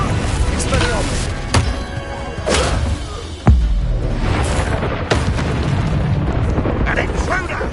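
Confringo fire spell blasts in Hogwarts Legacy combat, several booming explosions and thuds landing in quick succession over a dense, loud battle din, with a sharp hit standing out midway.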